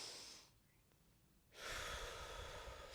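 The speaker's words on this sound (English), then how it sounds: "you need to take deep breaths, not out in your chest, in your stomach" One slow, deep breath drawn in through the belly during meditation: a soft airy rush, then a brief pause, then a long, steady breath out, close and quiet with no talking.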